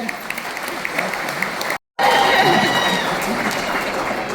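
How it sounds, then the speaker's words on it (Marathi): A hall audience honoring actor Ashok Saraf breaks into strong, sustained applause mixed with crowd murmur, interrupted by a brief cut of silence before the clapping resumes. "एकदा जोरदार टाळ्या होऊन जाऊ द्या"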